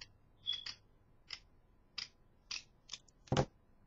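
Scissors snipping a small heart shape out of a tiny scrap of burlap, a series of short crisp cuts spaced out in an uneven rhythm, close and fairly quiet, with one stronger snip near the end and no talking.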